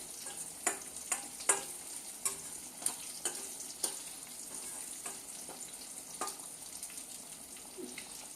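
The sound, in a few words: frying dal and broad bean curry in a pan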